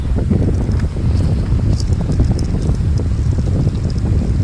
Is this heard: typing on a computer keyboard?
no